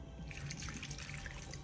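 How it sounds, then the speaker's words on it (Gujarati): Running water splashes and trickles steadily while something is rinsed clean, a quiet, close, continuous wash with no talking. "પાણીથી ધોઈ નાખીએ."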